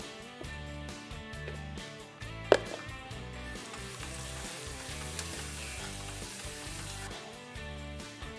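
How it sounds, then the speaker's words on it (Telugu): Onions fry in a pot, making a soft continuous sizzle over a rhythmic, repeating musical backing, with one sharp click partway through. "ఉల్లిపాయ మంచిగా వేగాలి"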